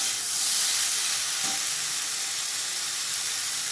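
Perandai (adamant creeper) sautéing in a pan for a chutney, a dense steady hiss of frying heard close and alone, with no talking.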